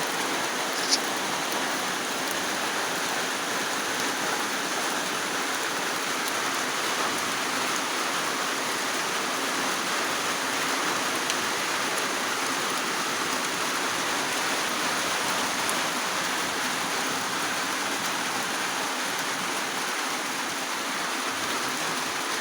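Rain falls steadily on a village beside Kenya's Mau Forest, a broad even hiss of drops on the ground and surfaces that holds constant throughout without voices.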